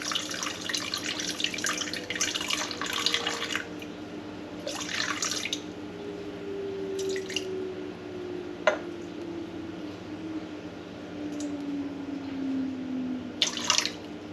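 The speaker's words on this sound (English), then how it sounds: "We're gonna add 100 grams of water." Water running from a tap into a bowl for sourdough dough, a steady trickle with a few splashes and drips, close and moderately loud with no talk.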